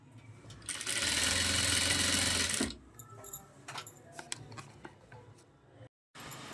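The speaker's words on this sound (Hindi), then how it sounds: "इसी तरह मैंने पूरे घेरे पे सिलाई लगानी है" A sewing machine stitches the flared hem of a girl's 14-panel Anarkali frock, running in a steady, loud mechanical whir for about two seconds before stopping, followed by soft handling clicks and fabric rustle.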